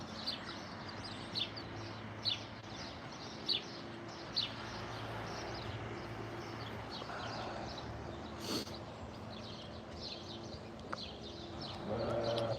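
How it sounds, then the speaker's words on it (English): Faint birds chirp in short, scattered calls across the clip over a steady outdoor hum, with a couple of louder knocks near the end. "Hear the birds?"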